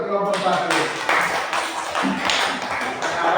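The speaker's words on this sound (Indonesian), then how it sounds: "Ya, tepuk tangan untuk kelompok 1." Children in a classroom applaud a group with a burst of dense, ragged clapping, mixed with voices.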